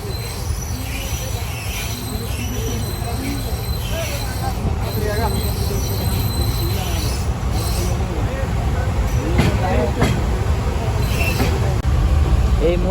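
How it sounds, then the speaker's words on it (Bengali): The Dolonchapa Express pulls out of a railway station, its wheels rumbling and squealing on the rails in a loud, continuous roll that builds steadily, with a voice talking over it. "আমাদের দোলনচাপ এক্সপ্রেস ট্রেনটি ছেড়ে যাচ্ছে"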